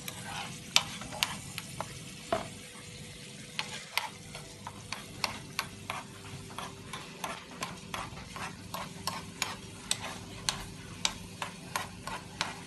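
Tomato sauce for pizza frying in a pan, a steady close sizzle with regular sharp ticks and scrapes from stirring, no talking.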